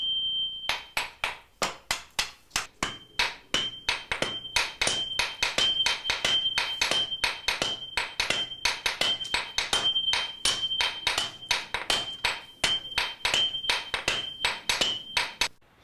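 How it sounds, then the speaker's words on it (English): A master swordsmith's hammer strikes a sword on the anvil in a steady, rapid rhythm, dozens of sharp ringing metallic blows close by, with a sustained high anvil ring under the beats and no talking. "The commands of the swordsmith's hammer is all that is required."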